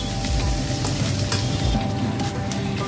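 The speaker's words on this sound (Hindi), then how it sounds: "अब ये लहसुन अदरक और इसके बाद जो मैं प्याज डालूंगी ना उसको हमें अच्छे से ब्राउन करना है" Garlic and ginger sizzle loudly in hot oil in a pan while being stirred, a dense continuous frying hiss with occasional scraping of the spoon, close and steady with no talking.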